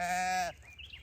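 A single sheep gives a loud, close, harmonically rich bleat that cuts off abruptly, leaving faint background noise behind.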